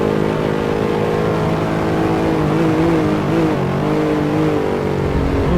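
A Mercedes-Benz race car engine roars at high revs around Monza in a sim racing game, a steady, loud mechanical drone with slight pitch shifts as it lifts and pushes through corners, no talking.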